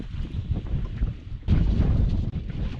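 Strong wind buffets a microphone out on a river during a catfishing trip, a loud rumbling roar that surges harder halfway through, with no voices.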